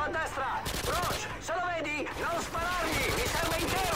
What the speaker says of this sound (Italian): sono gli altri che sparano a me